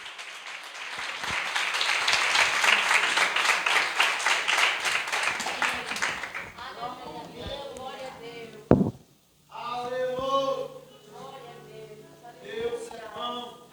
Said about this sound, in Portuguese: Vamos receber o servo de Deus aplaudindo Jesus.